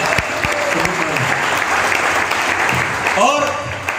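An audience applauds steadily throughout at a motivational success-journey program in Karnal, a dense wash of clapping with a voice briefly audible over it.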